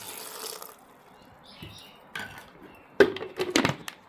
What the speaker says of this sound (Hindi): और ये थोड़ा सा पानी डालूँगा मैं।